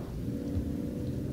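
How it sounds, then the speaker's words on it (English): A steady, dense wash of rain with a low rolling rumble of thunder beneath it, from Final Fantasy XV, constant and fairly loud with no voices. "I actually prefer the rain, to be honest"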